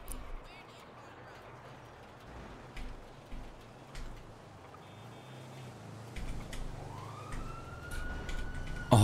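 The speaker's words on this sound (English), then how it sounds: "please say that's the ambulance coming to help me" Ambulance siren in the video game GTA, a rising wail that swells in over the last few seconds above a low rumbling background, growing louder toward the end.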